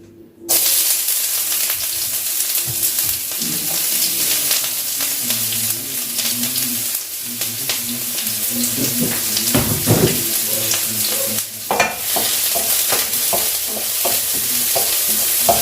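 Olive oil crackles and sizzles steadily in a pan over high heat, a close, continuous hiss with occasional pops and brief clinks of a utensil; no voices are heard.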